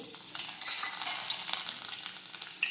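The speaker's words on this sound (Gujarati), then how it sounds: "હવે આપણું તેલ છે તે ગરમ થઈ ગયું છે હવે આપણે તેમાં લસણ નાખી દઈશું" Garlic hits hot oil for a cauliflower and potato dish, producing a faint, continuous crackling sizzle with small pops throughout, heard alone without speech.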